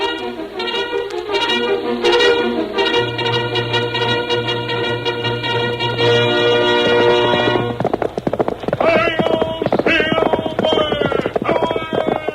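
A Lone Ranger radio drama uses a horse-hoof sound effect: brisk, rhythmic clip-clops come in under loud orchestral theme music and become sharper and more prominent toward the end.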